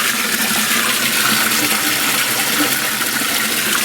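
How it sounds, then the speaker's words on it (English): Water gushing steadily down a utility sink crossover drain, a continuous loud rushing flow with no break, close by and alone. "Check that crossover drain."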